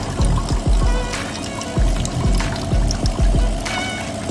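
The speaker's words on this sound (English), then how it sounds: "This is the muddy water. The water running through the device from the inlet." Muddy water from a lotus pond is poured into a solar household water purifier, running through the device from its inlet as a steady splashing pour with repeated gurgling low thumps, close by and fairly loud.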